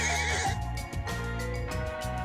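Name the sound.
horse neighing in video game Ys 4: Memories of Celceta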